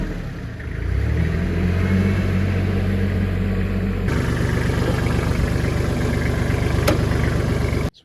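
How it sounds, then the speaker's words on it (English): A tractor engine runs steadily nearby while the tractor moves on a dirt storm-drain dig site, its low mechanical drone shifting in tone partway through before cutting off at the end. "Got the tractor pulled up,"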